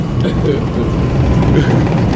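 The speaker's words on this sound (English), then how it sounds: "Coming into 135th, the A train is not stopping at this lift." An NYC subway A train coming into 135th Street station, a continuous low rumble of the approaching cars, moderately loud and even, with no clear speech over it.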